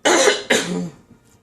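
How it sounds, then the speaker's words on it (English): Two quick, fairly loud coughs from a woman, close by and alone, fading into quiet. "Proverbial cough before I begin."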